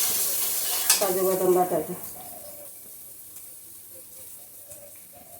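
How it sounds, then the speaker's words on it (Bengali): A pan of masala being sautéed with salt for a pointed gourd (kakrol) curry, giving a low, steady sizzle and stir. A short stretch of talk sits over it near the start, then the frying continues faintly alone. "ভালো করে কষে দিয়ে দিচ্ছি"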